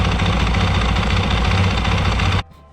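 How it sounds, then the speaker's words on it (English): A Yamaha WR250F dirt bike engine runs loud and close at a steady, slightly knocking idle, then is shut off abruptly, leaving near silence. "then I'll start the engine"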